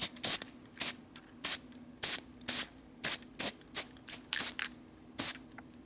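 Short aerosol spray bursts are aimed at an engine part on a 1957 Harley panhead drag bike, a rapid series of about a dozen close hissing puffs with brief gaps between them.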